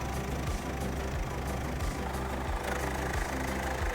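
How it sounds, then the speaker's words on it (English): A car engine idles after being sprayed with EGR cleaner, a close, steady low throbbing with a regular knocking pulse running evenly throughout. "Let the engine idle for a few minutes to burn off remaining deposits"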